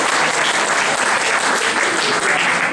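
Loud, dense applause from an audience at a talk or public meeting, continuous clapping at close range for a few seconds.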